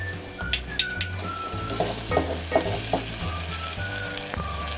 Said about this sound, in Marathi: आपण याला कांद्याला जरा परतून घेऊया.